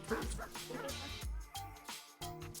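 Close, sharp dog barks and yips come in quick bursts during an obedience training session, with brief gaps between them.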